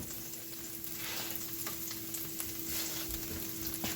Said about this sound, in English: we're going to start sauteing off our garlic for our green beans